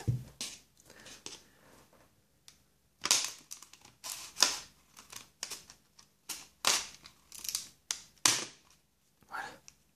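A Pokémon Destinées Futures promo booster pack is opened slowly and gently, making a series of close, crisp foil crinkles and tearing rustles in irregular bursts, with brief quiet pauses between them.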